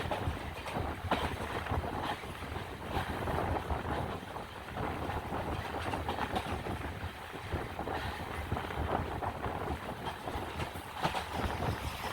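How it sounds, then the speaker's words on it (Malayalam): Wind roars past a fast-moving express passenger train between Kollam and Thiruvananthapuram, a constant rushing buffet over low rumbling and faint rail clatter, with no voices. "ട്രെയിൻ നല്ല സ്പീഡും ഉണ്ട്, അതുപോലെ തന്നെ നല്ല കാറ്റുമുണ്ട്."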